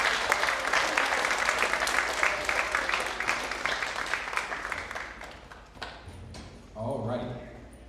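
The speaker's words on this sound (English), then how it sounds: "another round of applause today." Audience applause at a school world percussion spring concert, a loud sustained wash of clapping that fades out over several seconds before a voice begins speaking near the end.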